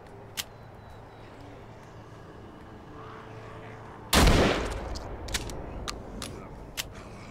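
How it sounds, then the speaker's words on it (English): A shotgun fires once at zombies in The Walking Dead: Saints and Sinners, a single loud, sharp blast standing out against quiet game ambience, followed by a decaying tail and a few light clicks and knocks. "Shotgun time."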